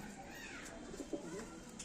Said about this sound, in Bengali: বন্ধ লেজের পায়রা